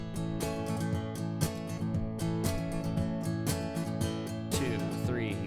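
An acoustic guitar plays a percussive strum, with thumb slaps and the wrist hitting the body on each beat, making a steady sharp rhythm over ringing chords, close and fairly quiet.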